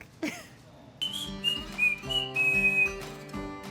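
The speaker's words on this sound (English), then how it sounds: "Who likes to whistle?" Someone whistles a short, bright melody over a soft sustained instrumental backing, the notes sliding and held.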